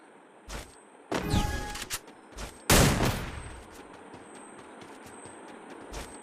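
Gunfire from the mobile battle-royale game Free Fire, with a few sharp bursts and rapid volleys of shots spread across the stretch, loud and close, with quieter gaps between the firing.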